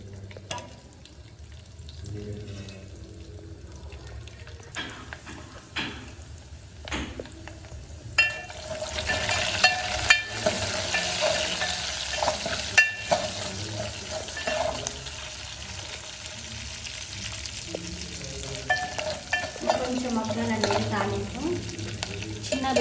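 Mustard seeds, red and green chillies and curry leaves fry together in a small pan on a home stove, a steady crackling sizzle that grows louder midway, with occasional stirring clinks and no talk.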